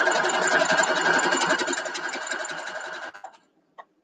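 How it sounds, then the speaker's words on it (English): A sewing machine stitches quilt pieces for a nine patch block, running in a fast steady whir for about three seconds before slowing and stopping, followed by a couple of brief clicks. "I'm going to go ahead and sew these 3 together real quick"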